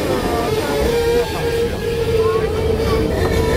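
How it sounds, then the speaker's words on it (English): Narrow gauge railroad train backing up a steep switchback grade, a steady rumbling rolling noise with a sustained tonal hum, close and continuous, with talk in the background. "We're going to back the train up the steepest part"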